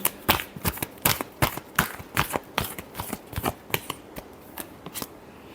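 Tarot cards being shuffled by hand close up, a quick series of sharp riffling snaps and slaps in an uneven rhythm, about a dozen bursts that taper off slightly toward the end.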